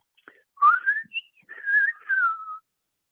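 A human whistler imitates birdsong with sliding, warbling phrases, rising and falling in short bursts, clear and close against silence.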